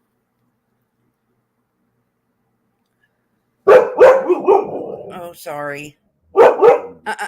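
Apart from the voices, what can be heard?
dog barking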